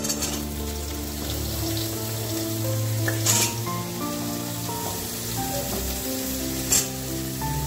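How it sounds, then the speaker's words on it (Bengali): Drumsticks and potato pieces fry in hot oil in a kadai, giving a steady close sizzle with faint stirring clinks throughout and two brief sharper spatters. "ডাঁটাটা আলুটা আমি সবটা দিয়ে দেবো, দিয়ে হালকা করে ভেজে নেব।"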